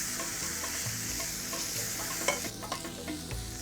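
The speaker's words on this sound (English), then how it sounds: "So what does frying do? Well, it releases the aromatic oils in the spices and lemongrass." Spice paste containing lemongrass fries in a pan, giving a steady close sizzle with stirring scrapes and a few sharper clatters toward the end, with no voices.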